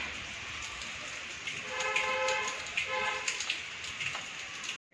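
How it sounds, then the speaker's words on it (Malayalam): Steady, dense hiss of heavy rain pours throughout in the mountains of Uttarakhand, with a faint tonal hum and scattered clicks in the background, ending abruptly. "നല്ലതായിട്ട് മഴ പെയ്യുന്നുണ്ട്"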